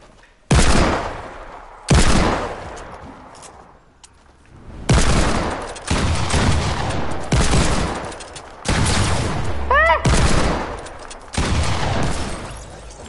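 Pump shotgun fire in the video game Fortnite, with a series of loud, sharp blasts spaced a second or two apart over a continuous game background.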